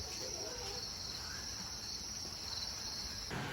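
Crickets on a cricket farm kept in cardboard boxes with egg-tray nests, a continuous high steady chirping drone that cuts off near the end, with low background rumble.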